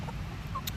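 A backyard hen in an urban garden gives a couple of faint, brief clucks over low background noise.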